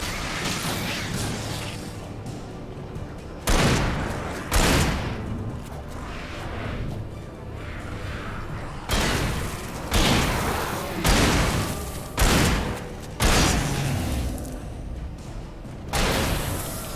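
Shotgun blasts in Alan Wake Remastered, heavy booming shots spaced irregularly over steady background rumble, close and loud, some in quick pairs.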